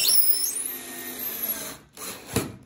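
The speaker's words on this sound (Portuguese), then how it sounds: "Nós vamos parafusar esse esquadro aqui na bancada." Power drill driving screws to fasten a square onto a wooden workbench, a high whining motor that rises in pitch then stops, followed by a short clunk, close and moderately loud with no talk.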